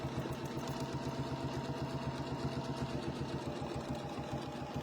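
Sewing machine running steadily while piecing a quilt block, a continuous close, even mechanical whir with a fast regular stitching pulse and no talk.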